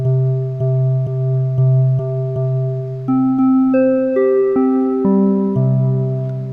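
Korg minilogue xd synth electric piano repeats a steady chord pattern, then shifts through changing chords, each note ringing out into a smooth, spacious hall reverb.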